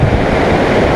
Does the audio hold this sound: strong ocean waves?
yes